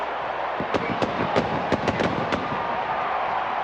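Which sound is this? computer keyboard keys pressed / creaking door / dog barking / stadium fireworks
stadium fireworks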